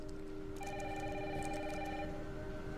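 Telephone ringing in a Resident Evil 9 trailer, a steady electronic ring that repeats for about a second and a half over a constant background hiss, with no talk.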